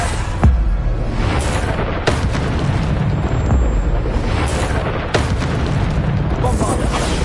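Explosive blasts from the Bombarda spell in Hogwarts Legacy, several sharp booming bursts landing a couple of seconds apart over a loud, rumbling battle background.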